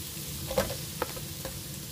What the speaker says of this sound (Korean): 센 불에서 볶고 있습니다.